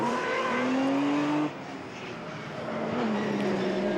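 A black Peugeot rallycross car roars past during a race heat, its engine note climbing loudly as it approaches, then dropping sharply as it passes and recedes, with a second car's engine rising again afterward.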